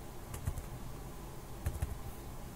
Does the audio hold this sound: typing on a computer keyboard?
yes